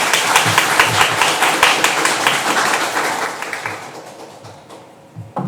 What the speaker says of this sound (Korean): 큰 박수로 배현영 선생님을 확인해 주세요.